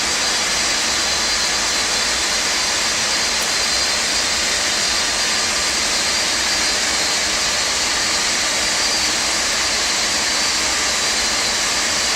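Boeing 747-200 JT9 jet engines run steadily in the Felis flight simulator, giving a constant, loud, even roar with a thin high whine. No voices are heard.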